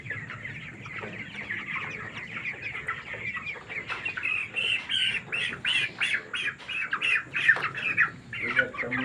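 Twenty-two-day-old broiler chickens squawk and cluck loudly and agitatedly at close range while being weighed on a farm, the cries growing busier and more frantic midway, with some human voices underneath.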